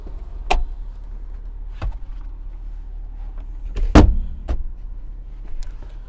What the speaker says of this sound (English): Now let's go ahead and fold these seats up back here.